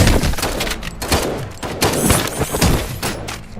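Dense, loud gunfire from a RoboCop video game on PS5, continuous overlapping shots and impacts in a chaotic firefight.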